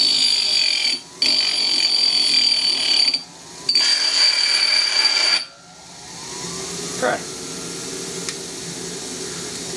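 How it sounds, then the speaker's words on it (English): An angle grinder grinding metal whines loudly in three bursts with brief pauses, then spins down and falls quiet except for a faint hum. "Take the side of my grinder and get rid of that piece."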